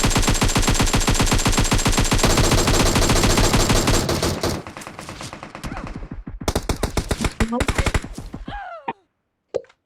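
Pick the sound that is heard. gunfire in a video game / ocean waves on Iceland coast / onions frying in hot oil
gunfire in a video game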